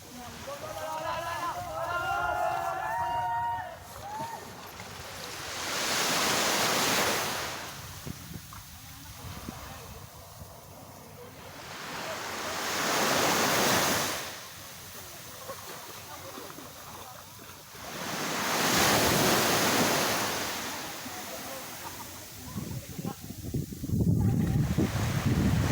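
Sea waves surge onto a shore at the seaside in three broad, loud swells spaced several seconds apart, with gusty wind noise and a brief voice and birdlike chirps near the start.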